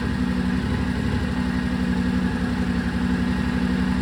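A Yamaha Tenere 700 motorcycle engine idles close by, a steady low rhythmic chugging that holds even and unbroken from start to finish with no talk.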